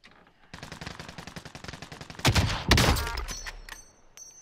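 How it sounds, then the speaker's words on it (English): Rapid automatic gunfire in Call of Duty: Modern Warfare, a long close burst of steady shots followed by heavier booming blasts and ringing tails, with no talking. "I'm getting shot from 75."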